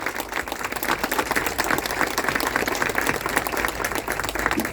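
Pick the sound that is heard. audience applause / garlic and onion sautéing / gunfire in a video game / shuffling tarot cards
audience applause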